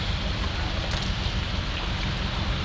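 Steady rain pours down outdoors onto parked cars, an even hiss of drops spattering on hard surfaces, with no voices.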